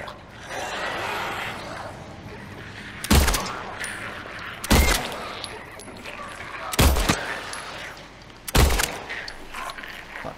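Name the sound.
gunshots in the video game Silent Hill 2 Remake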